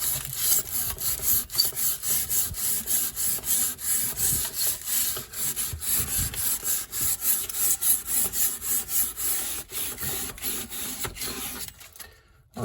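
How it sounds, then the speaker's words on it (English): Tin foil is scrubbed hard against rusty metal on a caravan, making a continuous rhythmic rasping and scraping sound close to the microphone, with quick back-and-forth strokes and no talk. "use some tin foil to rub on it and see if we can get some of that rust off"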